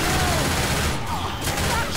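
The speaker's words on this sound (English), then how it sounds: "Please stop shooting me." Dense gunfire from the Left 4 Dead 2 video game, a loud, continuous fusillade of overlapping shots lasting the whole short stretch with no pauses.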